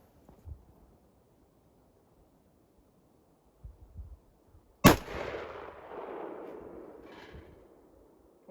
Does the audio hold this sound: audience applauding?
no